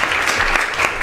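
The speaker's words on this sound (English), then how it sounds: "I don't mean to get in the way of the applause" Audience applause at a university colloquium on a California foster youth law: a short, steady burst of clapping at moderate level with no voices over it.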